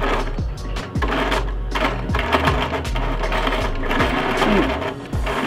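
Sewing machine stitching with its bobbin case tension screw loosened, a steady mechanical hum with uneven clacking knocks from below, continuous and close.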